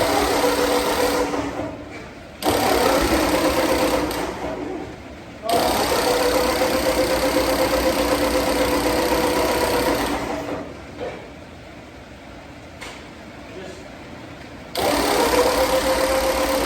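A Ford 8N tractor engine cranks and catches on its first start, running close and loud in several sustained bursts with short lulls between them.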